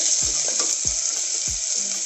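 Tomatoes fry in hot groundnut oil for vendakkai kulambu, giving a loud, steady close sizzle broken by a few soft thumps or stirs.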